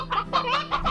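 Chickens in the video game Slime Rancher cluck in three close, loud bursts, a busy burbling flock with no talk over it.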